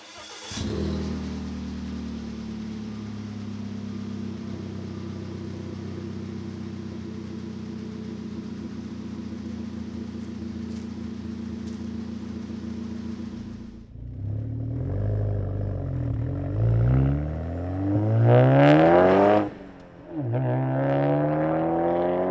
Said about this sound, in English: first impressions of this exhaust, it's pleasantly surprising how different it sounds from before